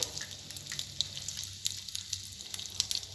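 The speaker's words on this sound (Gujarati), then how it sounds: "જો આ રાઈ તતડી ગઈ છે એટલે સૌપ્રથમ આપણે થોડીક હિંગ નાખીશું" Mustard seeds and asafoetida sizzle in hot oil over low heat while Gujarati bataka vada is being made: a close, steady crackling hiss dotted with sharp little pops, with no talking.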